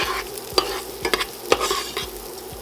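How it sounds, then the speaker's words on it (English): Washed rice toasting in a pan sizzles steadily while a utensil scrapes and stirs it in quick, irregular strokes, close and fairly loud. "we're going to take this rice that's already been washed and we're going to toast it."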